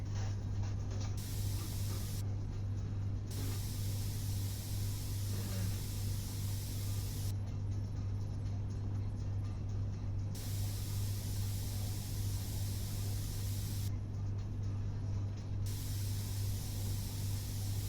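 Airbrush spray painting a miniature mech model, a steady, continuous hiss that runs the whole time with no pauses, alone and close up, over a low constant hum.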